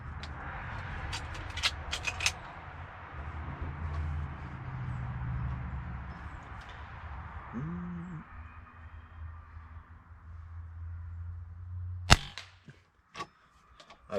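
A Beeman 1358 .22 bullpup underlever air rifle fires, with a few sharp cracks early on, then a louder single snap near the end followed by a couple of clicks, over a low background hum with no talking.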